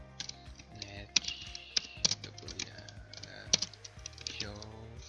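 Someone types a command on a computer keyboard, producing a quick, irregular run of close, crisp key clicks, with a few louder taps and a faint murmur of voice in the background.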